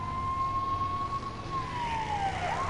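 Police motorcycle siren in the Lego City Undercover video game, a steady wailing tone that sweeps slowly then dips and rises near the end, loud and continuous over low engine rumble, with no talking.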